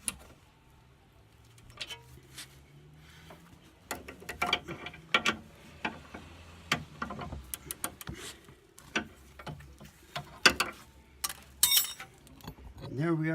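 A long ratchet bar tightening Subaru Outback sway bar end links, producing a series of sharp metallic clicks in irregular bursts, close by, with faint low background noise.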